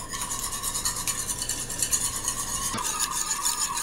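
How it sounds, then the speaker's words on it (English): Whisk or fork beating raw eggs in a bowl for French toast, a steady close scraping and clicking rhythm running through, with no talk. "usually I like to break the yolk first and then whisk these guys together"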